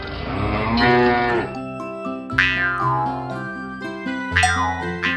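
A cow moos loudly and close by, a long low bellow followed by a second call, with a bright metallic clang ringing out twice over it.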